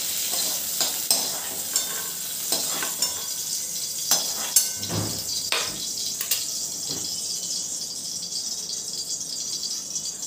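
Fried spinach and sorrel leaves being lifted out of a pan for Telugu dal, with repeated metal spoon scrapes and clinks over a steady background sizzle and one louder clatter midway, no voices.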